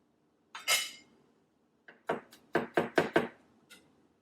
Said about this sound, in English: Now it's time to cut our garlic.